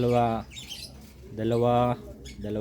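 Pigeons coo in a home loft, with two or three drawn-out throaty calls close by and short pauses between them.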